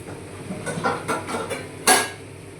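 Metal pot lid clattering onto a pot of fish curry with squash and potato, several light clinks and scrapes before one sharp, bright clang as it settles, close and clear.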